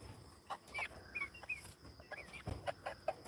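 Chickens on a farm give soft, scattered clucks and brief chirpy calls, faint and close, over a quiet background hum with a few insect-like chirps.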